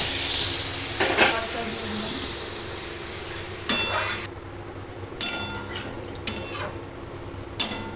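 Onion paste frying in a pan for a katla fish curry with potatoes, a steady close sizzle broken by several sharp scrapes and clinks of a spoon stirring against the metal.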